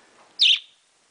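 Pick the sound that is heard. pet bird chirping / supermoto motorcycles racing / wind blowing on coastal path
pet bird chirping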